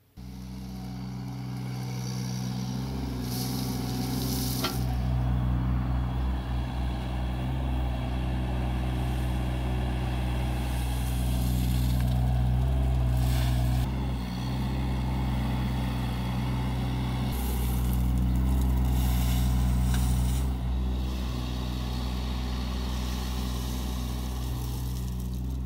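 Rhino XN20 mini digger shifting crushed gravel on a driveway job, with a loud steady diesel engine drone running throughout, rising in revs at times, and scraping, rattling bursts of gravel being moved over it.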